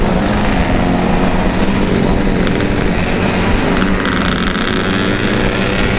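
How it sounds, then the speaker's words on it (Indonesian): A loud, continuous motorcycle exhaust roar, likely a Yamaha RX-King 135cc, with a deep rumbling low end fills the whole clip, steady and close, like a throaty exhaust idling or revving. "enak banget suara knalpot Om Tano."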